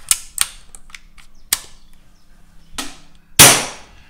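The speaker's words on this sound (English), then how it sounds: "you just pull the bolt back and you'll see it cycle as you pull it through" An Air Arms S410 air rifle bolt is worked by hand, giving a series of sharp metallic clicks and clacks up close, ending in a loud snap as the bolt drives home.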